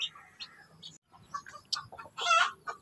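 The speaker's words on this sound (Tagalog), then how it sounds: "ito yung manok na naglimlim kahapon." A brooding hen clucks softly in short bursts, with a louder agitated cluck near the end, heard close in a breeding pen among faint background rustle.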